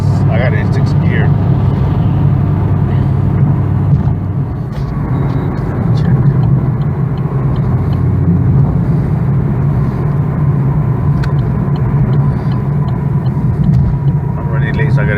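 A Chevrolet Camaro cruises and accelerates gently in sixth gear, a steady low engine rumble heard from inside the car with someone talking over it.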